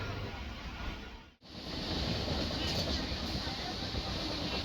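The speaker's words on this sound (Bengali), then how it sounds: "আমাদের ট্রেনটা এই জাস্ট ছাড়লো, একদম অন টাইমে ট্রেন ছেড়েছে" A steady, loud rumble of a departing train with rushing wind noise, a brief dip early on before the roar settles in, continuous and close.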